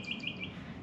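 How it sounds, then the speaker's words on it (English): A bird chirps a few quick tweets in the background at an outdoor truck campsite, fairly faint and alone. "And that bird is happy back there."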